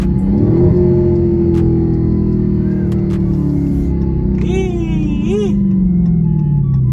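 A 2021 Dodge Charger Hellcat Redeye engine drones loudly and steadily, pitch sliding up and down, with two quick sharp rev blips near the end as it downshifts; a voice is faintly mixed in.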